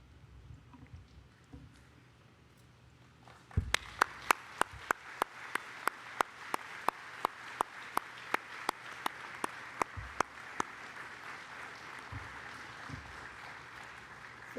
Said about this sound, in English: face our supporters, our families, and give them a hearty round of applause in thanks for all that they have done for us.